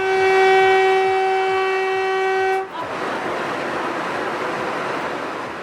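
A semi high-speed train sounds a long, loud multi-tone horn, then the horn cuts off and the roaring rush of the passing train continues with rhythmic wheel clatter.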